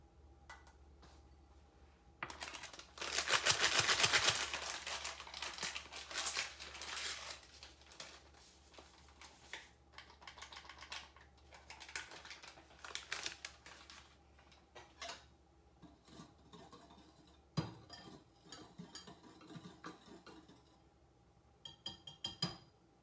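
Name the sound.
whisking salt, baking soda and pudding mix together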